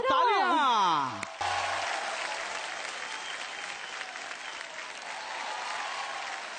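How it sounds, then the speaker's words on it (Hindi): Loud, sustained applause from an awards show audience in Singapore, a dense wash of clapping after a brief burst of music, continuing steadily to the end. "जोरदार तालियां।"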